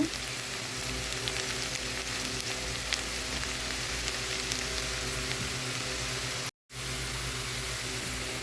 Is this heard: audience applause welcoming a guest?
no